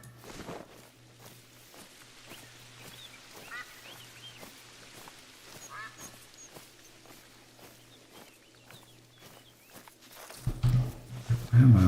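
Geese honking in a hunting video game, faint scattered calls across a quiet outdoor ambience with footsteps, building to louder, closer honks near the end.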